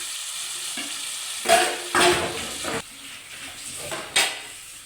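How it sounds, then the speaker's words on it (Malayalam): Onion and tomato frying in a pan for a country-style sardine curry: a loud close hiss that surges in a few strong bursts as ingredients are moved about, then settles to a softer sizzle. "ഇനി നമുക്ക് അതിലോട്ട് തക്കാളി ഇട്ട് കൊടുക്കാം."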